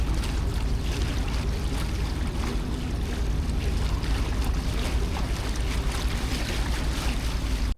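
A boat crosses the calm winter Jamuna river toward a remote char in Bangladesh, its engine droning loud and steady with constant water and wind rush, no voices.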